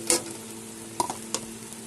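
Chili powder, cumin and turmeric frying in oil in a pan for a Bengali tilapia jhal, a steady close sizzle broken by three short scraping stirs of the spatula, no voices.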